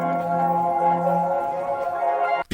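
A short melodic sample lifted from a song for a drill beat plays alone, sustained harmonic tones holding steady for over two seconds before cutting off abruptly with a click.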